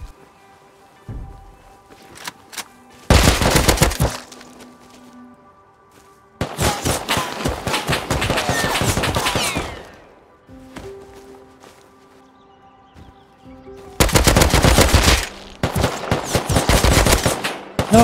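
Bursts of rapid automatic gunfire in the survival video game Rust, several loud close volleys separated by quieter gaps with footsteps and faint background noise.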